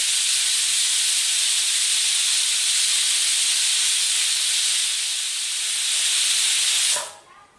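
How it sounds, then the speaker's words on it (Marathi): Pressure cooker on a gas flame at medium heat, cooking for a puran poli recipe, giving a loud, steady, close hiss of escaping steam for about seven seconds before it cuts off abruptly. "कुकरचं झाकण लावलंय आणि हे गॅसवर ठेवलंय आता गॅसची फ्लेम मध्यम करूयात आणि साधारणतः चार ते पाच शिट्ट्या काढून घेऊया"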